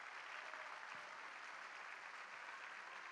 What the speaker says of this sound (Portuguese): Enio, queria pedir uma salva de palmas a todos os servidores e colaboradores da Itaipu Binacional.